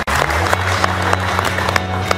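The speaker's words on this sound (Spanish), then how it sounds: "Un aplauso para ustedes." Applause from a crowd at a Mexican event, honoring a team, with repeated claps forming a steady, loud wash that continues throughout without pause.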